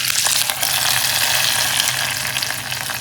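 Hot oil tempering with curry leaves poured into bubbling sambar, a loud, dense crackling sizzle that holds steady close by and eases slightly toward the end.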